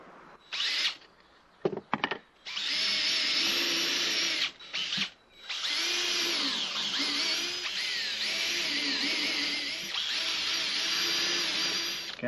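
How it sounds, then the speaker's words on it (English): A power drill whirs in several bursts, spinning up, pausing briefly, then running steadily as it pre-drills fence board wood, close and loud. "Pre-drill."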